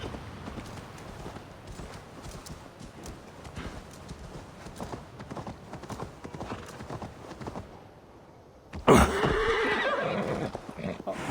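Horse hooves clip-clop steadily in Assassin's Creed Valhalla, then a loud, close whinny breaks out near the end and carries over the trotting.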